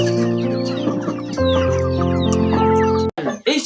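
Local chickens cluck and call in rapid, overlapping bursts, loud and close, layered over a steady tonal drone that stops abruptly near the end.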